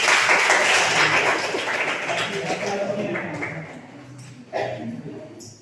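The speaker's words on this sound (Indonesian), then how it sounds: "kita kasih tepuk tangan untuk kelompok 1" A class claps for a student group, loud at first and fading over a few seconds, with voices murmuring through it.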